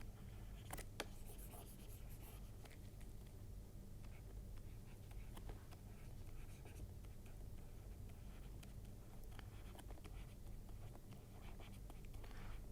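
Marker or chalk writing on a board during an optics lesson on refraction through a prism, a steady soft scratching and rubbing run lasting several seconds, faint and close with a low room hum underneath.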